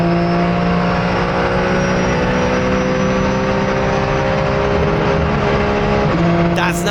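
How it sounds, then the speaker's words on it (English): A Porsche GT4 race car engine at Misano holds a sustained high drone with steady tonal harmonics, loud and close from onboard, dipping slightly near the end as the pitch shifts. "And now, listen to the engine."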